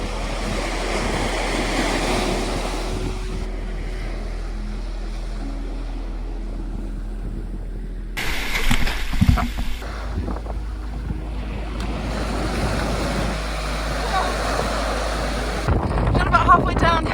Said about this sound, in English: It's getting a lot choppier now.